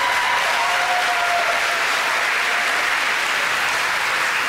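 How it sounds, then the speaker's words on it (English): A crowd at a Catholic high school class of 2023 graduation ceremony applauds continuously, a dense, even roar of clapping held at a steady loud level throughout. "let's applause, it's an exciting morning."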